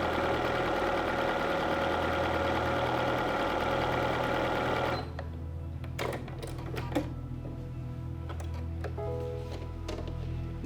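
A Bernina computerized sewing machine runs a lengthened triple stitch for hemming jeans, a steady close mechanical hum that shifts halfway, then continues with sharper clicks and ticks of the needle mechanism.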